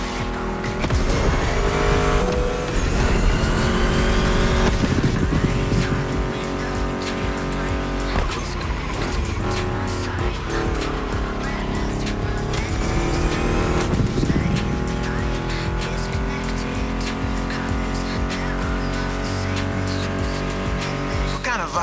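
A Ford Mustang GT muscle car in The Crew Motorfest racing hard, its engine revving and shifting through gears with tire squeal, loud and sustained.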